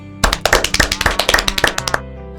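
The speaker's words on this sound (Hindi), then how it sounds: "सभी लोग अपने लिए एक बार जोरदार ताली बजाएं।" A small group of women at a village nutrition meeting claps together in a quick burst of about a dozen sharp, close claps lasting roughly two seconds.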